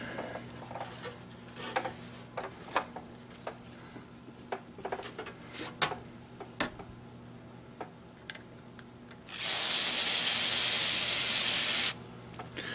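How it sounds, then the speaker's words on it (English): Scattered small clicks and taps, then a loud steady spray of DeoxIT aerosol contact cleaner hisses up close for about three seconds before cutting off, cleaning arcade game parts. "let me spray some DeoxIT on there"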